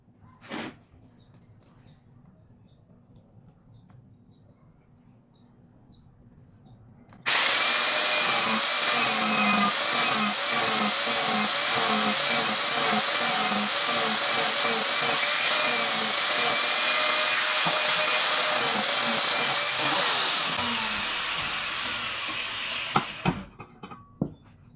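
An angle grinder used to bore a hole in steel pipe starts abruptly after quiet, then holds a loud, steady high whine with rapid rattling contact noise for about thirteen seconds before spinning down, followed by a few sharp knocks.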